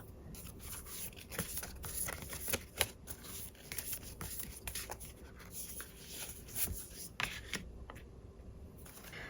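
Tarot cards being shuffled and drawn, with soft rapid riffling and rubbing of the deck, several sharper flicks and slaps, close and quiet.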